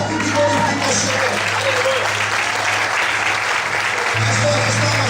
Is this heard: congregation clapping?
yes